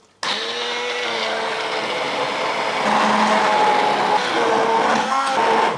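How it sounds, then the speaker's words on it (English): A blender motor runs steadily and loudly for several seconds blending eggplant sauce, its whine shifting pitch slightly partway through as the contents churn. "So here is my blender, and I'll blend away"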